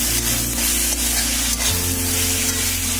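Steady sizzling of ginger garlic paste frying in a hot pan, continuous and close, with no talking.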